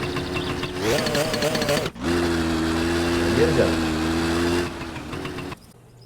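A Jonnez ES moped engine in My Summer Car sputters and starts, goes quiet briefly, then catches again and settles into a steady, near idle with a faint rise in revs before it dies down. Someone speaks a single word over it.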